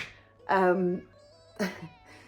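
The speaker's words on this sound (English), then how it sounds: "I have my cat just behind the camera" A cat meows twice close behind the camera indoors, a long drawn-out call followed by a shorter one, with quiet room tone between.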